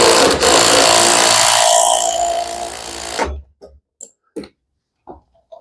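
A small DeWalt power tool runs hard on a car strut during suspension work on a Chevrolet Aveo, a loud continuous mechanical whir for about three seconds that stops abruptly, followed by a few faint scattered knocks and clicks.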